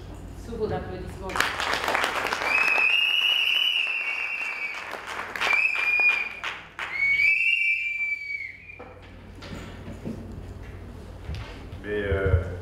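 An audience at an International Women's Day event applauds, with clapping and shrill whistles rising and falling over roughly twelve seconds, while voices and crowd noise mix in throughout.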